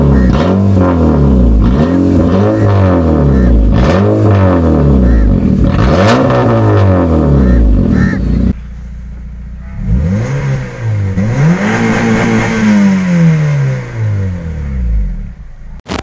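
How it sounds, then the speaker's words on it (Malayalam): Bagged Honda Civic with a Borla Valvetronic exhaust, valve open, revving hard several times in rising and falling sweeps, loud and close, then after a brief drop a further long rev that settles back to idle. "സോ ഇതാണ് നമ്മുടെ വണ്ടിയുടെ എക്സോസ്റ്റ് നോട്ട് എന്ന് പറയുന്നത്."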